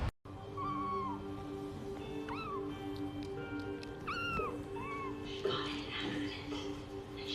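A cat gives several short, rising and falling meows at intervals over steady low background hum, fairly close and moderate in volume.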